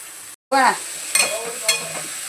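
Green beans being sautéed in a pan after being added to boiled dal with turmeric, giving a steady sizzle with brief stirring clatters, close by, after a short silent gap.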